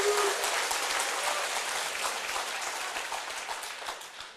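Audience clapping in a lecture hall, a dense, steady round of applause that gradually fades slightly toward the end.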